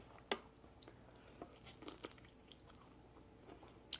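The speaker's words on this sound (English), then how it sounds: "Let me try one of these shrimp." Someone bites and chews Cajun Creole-seasoned shrimp close to the mic, with a few sharp crunchy bites followed by quieter wet chewing.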